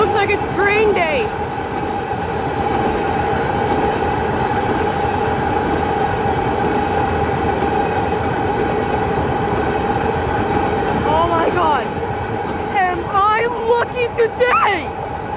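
A CN intermodal freight train rolls past at close range, a steady loud rumble and rail noise throughout with brief wheel squeals near the start and end, while people talk over it.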